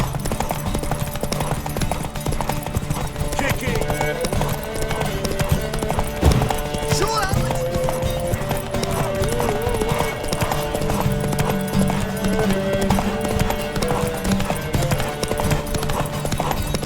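Steady hoofbeats of a horse clip-clopping along in The Witcher 3: Wild Hunt, with a continuous musical and ambient background, a brief whinny-like sound rising midway.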